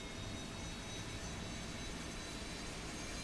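A Harrier jet in the War Thunder game throttles back up during a steep turn, giving a steady, loud, dense engine roar that holds evenly from start to finish with no voices over it.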